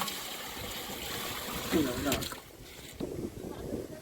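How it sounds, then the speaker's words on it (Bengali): Waves wash on a river in the Sundarbans during stormy, windy weather: a steady broadband rush of water with gusting wind buffeting the microphone, swelling briefly around the middle. "নদীতেও ঢেউ হচ্ছে"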